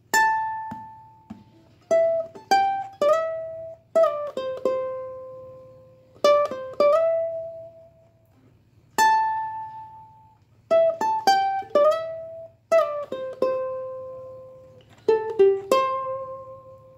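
Ukulele plucking the intro to a song: a clear melodic line of single notes and small rolled chords in repeating phrases with short pauses, played close and alone.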